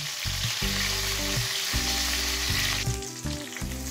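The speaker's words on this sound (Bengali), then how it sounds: "এখন এখানে দিয়ে দিচ্ছি কয়েকটা কারি পাতা।" Curry leaves sizzle and spit in hot oil with garlic while camel meat kala bhuna is cooked, a loud, continuous crackling hiss close by, with no talking.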